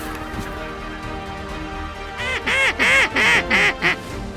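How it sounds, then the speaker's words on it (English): A handful of ducks quack in a quick, loud series of honking calls close by, the sounds breaking out after a quiet stretch of outdoor background during a waterfowl hunt. "there's ducks right out front here"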